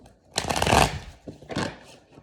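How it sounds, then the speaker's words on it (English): Tarot cards are shuffled in two quick riffling bursts, the first longer and louder, the second shorter, close up with no talking. "One more shuffle."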